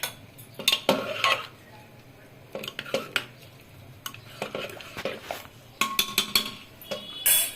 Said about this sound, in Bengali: এখন ডালটা খুলে দেখব।